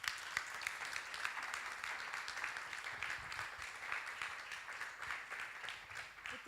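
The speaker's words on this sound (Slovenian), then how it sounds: "Prosim, en aplavz." Audience applause at a press conference for the musical Vesna: steady, fairly faint clapping from a small gathered crowd, continuous for several seconds with no talk over it.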